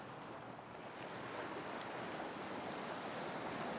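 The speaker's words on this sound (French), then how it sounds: "Tu regardes les vagues qui se forment à l'horizon." Ocean surf rolling in toward shore, a steady, full wash of breaking waves with wind, continuous and fairly close, no voices.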